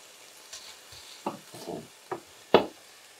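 Lardons fry in a pan as they are stirred, giving a quiet background sizzle broken by a few short scraping and clacking strokes, the last one sharpest.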